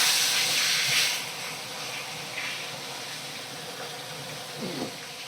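Pieces of bhetki fish fry in hot oil in a pan, giving a steady, close sizzling hiss that swells slightly at the start and continues alone without talk.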